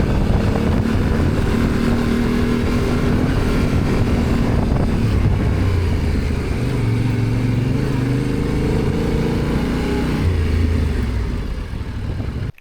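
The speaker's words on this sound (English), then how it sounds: "I'm probably the only one making noise with my bike" A Yamaha Tenere motorcycle rides through the French Alps in winter, its engine droning loud and steady throughout, with the pitch rising and falling as the revs change and gears shift.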